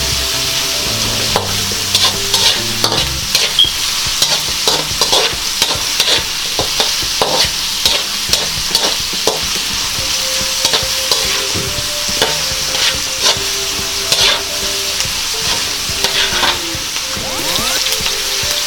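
Corned beef and chayote being stirred in a hot pan, with a continuous sizzle of frying punctuated by frequent sharp scrapes and clacks of the utensil against the pan, loud and close, with no voices.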